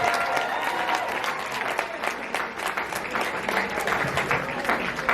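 A big crowd claps steadily and warmly at an elementary school 5th grade graduation, a continuous wash of applause at moderate distance, sustained from start to finish.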